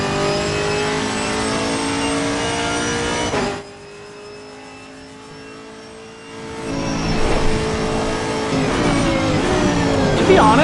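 A Chevrolet Camaro race car engine in Assetto Corsa Competizione screams loud and close under hard acceleration, drops away briefly during a lift or shift, then climbs again through rising revs.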